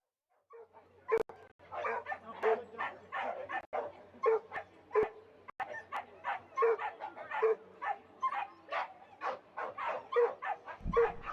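Dogs barking at a championship dog show at Canterbury Park, a rapid series of sharp yips and barks with some whimpers, loud and close, continuing steadily for several seconds without speech.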